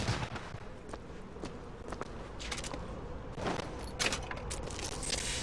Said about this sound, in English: Launch fireworks, whatever that does.